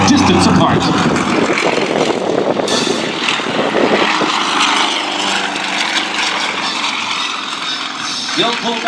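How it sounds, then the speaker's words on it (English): Twin Tigers aerobatic propeller planes pass low over the runway at Sun 'n Fun, a loud, continuous droning roar that swells and shifts as they go by, with a commentator talking over it. "they converge at high closure, just 25 feet above the runway as they pass just a limited distance apart"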